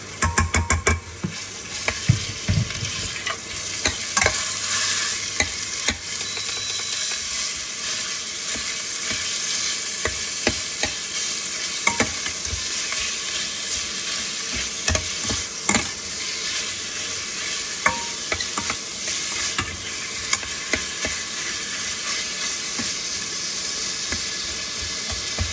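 Meat fries in a hot pan with a constant, close sizzle and hiss. Stirring and scraping clatter through it for the whole stretch, and no one speaks.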